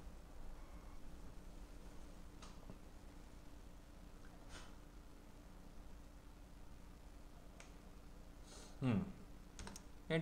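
A few sparse keystrokes on a computer keyboard during data entry in Tally Prime accounting software, heard as faint, spaced clicks over a quiet hiss, with a slightly louder Enter press near the end.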